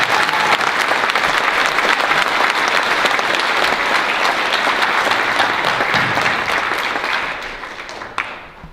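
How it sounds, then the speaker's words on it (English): Audience at a Pueblo Community College graduation ceremony in Cortez, Colorado, applauding graduates: dense, loud crowd clapping sustained evenly for several seconds before tapering off near the end. "Let's give our graduates a round of applause for their accomplishment."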